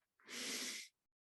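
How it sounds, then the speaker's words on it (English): One slow, airy inhalation during a guided breathing exercise, close and soft, lasting under a second and followed by silence. "Breathing in,"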